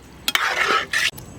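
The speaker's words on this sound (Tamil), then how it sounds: "இந்த மசாலாலாம் நல்லா வேக விட்டுறேண்ணா." Chicken liver masala sizzles in a pan while being stirred, with a couple of sharp utensil scrapes and knocks, close and loud, in short bursts.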